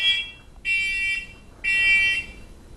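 A household smoke alarm sounds during a monthly test, giving two loud, sharp, piercing beeps about a second long each, separated by brief silence, close by and with no talking.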